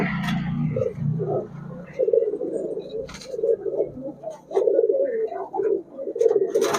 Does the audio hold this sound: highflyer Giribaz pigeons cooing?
yes